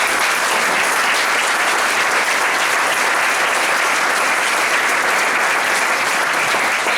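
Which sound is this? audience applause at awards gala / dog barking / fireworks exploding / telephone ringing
audience applause at awards gala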